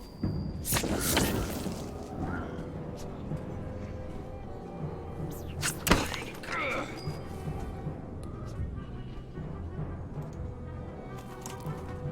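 A sharp, loud explosion bursts out midway through Banner Saga combat, preceded by an earlier heavy thud, all set against continuous game music and ambient effects.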